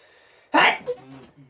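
A single sharp sneeze bursts out after a quiet moment, followed by a brief breathy trailing sound.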